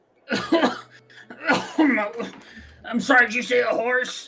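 A man coughs a few times up close, then speaks, during a tabletop role-playing game session.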